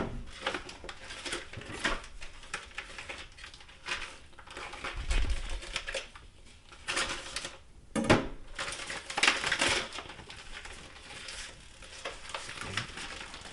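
A corned beef package cut open in a kitchen, with crinkly plastic crackling and rustling in irregular bursts, a few sharper snips and knocks close by.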